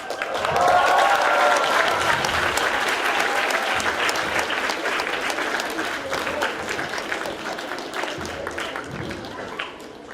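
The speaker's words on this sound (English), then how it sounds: "let's give another round of applause for all the crew and actors on LEX Theatre 2019" A theatre audience gives sustained, loud applause at the end of a stage performance, with dense clapping and some crowd noise lasting throughout.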